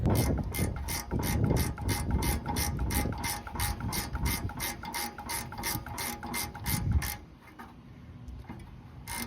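A hand ratchet loosening a spark plug on a Subaru Sambar, making a rapid, even run of close mechanical clicks for about seven seconds before stopping into quiet handling.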